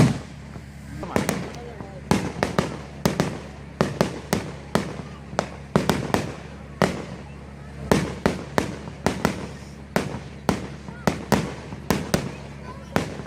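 Fireworks display in Indian River, Michigan, with a long run of loud booming bursts and crackling pops coming every half second or so, one after another, over steady background crowd noise and voices.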